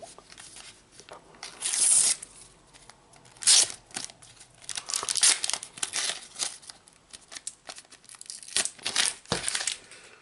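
Foil sticker packs from a Topps UEFA Champions League 20/21 multipack are torn open and handled, giving repeated crinkling and ripping bursts close up, with sharp tears near two and three and a half seconds amid ongoing rustle.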